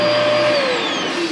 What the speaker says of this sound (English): 110 vacuum system. You move this over, hook up your vacuum,